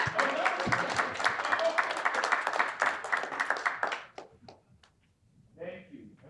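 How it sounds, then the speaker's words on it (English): Applause at a symposium on artificial intelligence, a room of hands clapping densely for about four seconds before fading out, then a voice speaking briefly at the end. "Good clap."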